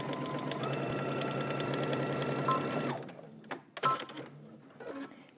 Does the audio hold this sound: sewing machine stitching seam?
yes